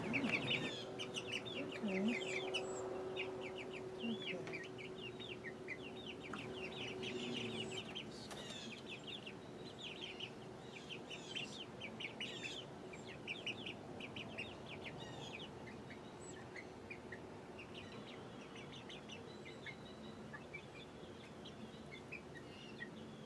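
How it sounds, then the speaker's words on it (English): Hens and baby chicks cluck and peep in an outdoor run, a busy scatter of soft clucks and high chirps at moderate distance, continuing steadily throughout with no talk. "I have the baby chicks out in the run. They're messing around in there. The big girls are out here eating some protein."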